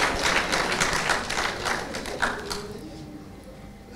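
A crowd claps in a burst of applause that fades out over a few seconds, with a murmur of voices underneath.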